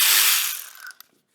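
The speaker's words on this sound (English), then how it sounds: "Can I get my little ratchet in there?" Small ratchet wrench clicking rapidly on a 1971 Pontiac GTO 455 during restoration, a close, dense burst of pawl clicks that fades and ends with a single sharp tick.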